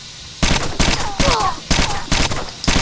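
Bursts of automatic gunfire in Rainbow Six Vegas, loud and close, coming in rapid volleys with short gaps between them.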